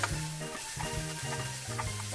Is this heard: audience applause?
no